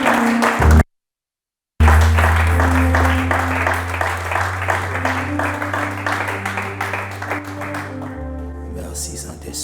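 A worship congregation applauding during a moment of prophetic adoration, dense sustained clapping with a held organ-like tone underneath, briefly cut out near the start, then continuing over a voice.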